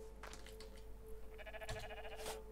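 A sheep in the Rising World video game bleats in a wavering, nasal cry over a steady hum of in-game ambience, loudest during the second half of the clip.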